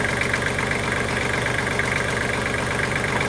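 A tractor engine idles steadily at close range, a continuous even chugging drone with a faint knocking pulse, no voices over it.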